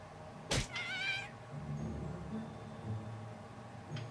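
A cat in the South Park: The Fractured But Whole video game gives a short sharp meow followed by a wavering drawn-out yowl, fairly close, then quiet background with a faint click near the end.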